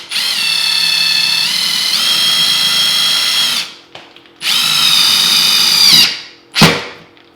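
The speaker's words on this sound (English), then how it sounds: "We'll just take our anchor, put it right on the drywall." A power drill drives a wall anchor into drywall for a floating shelf, whirring loudly and close in two long sustained bursts, then a short final spin as it winds down.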